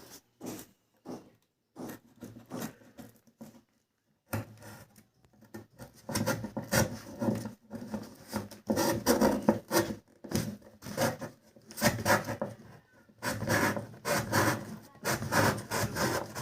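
Marked board being cut by hand for a homemade softbox light, heard as close, rasping sawing strokes in short bursts that become steady and rhythmic, with brief pauses between runs.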